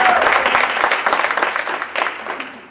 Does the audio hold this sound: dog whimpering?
no